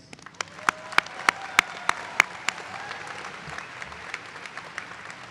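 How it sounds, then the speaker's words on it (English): Graduating class of 2023 at a podiatric and osteopathic medicine commencement claps for itself: a burst of sharp individual claps over a broad crowd wash, thinning and fading out over a few seconds. "Please give yourselves that congratulatory applause."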